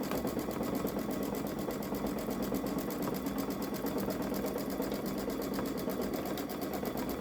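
Baby Lock Solaris Vision embroidery machine stitching edge-to-edge quilting at 500 stitches per minute, a continuous close rhythmic whirring and needle clatter that stays even throughout with no voices.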